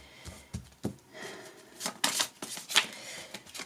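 Tarot cards being shuffled by hand, a series of close, crisp riffling bursts in an uneven rhythm, with no voices.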